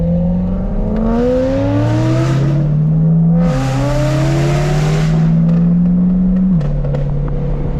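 A Corvette engine revving on a race track, loud and close, with the pitch climbing through several rising pulls and dropping between gear shifts.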